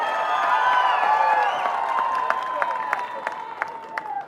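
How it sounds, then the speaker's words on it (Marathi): A crowd at an outdoor political rally in Sinnar, Nashik, for Devendra Fadnavis breaks into applause over sustained cheering and voices. Sharp distinct claps punctuate the loud, continuous roar in the second half. "एकदा जोरात टाळ्या वाजूया"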